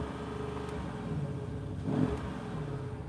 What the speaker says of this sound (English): I'm going to put it in sport mode to do that. And we're in sport, and let's rev it.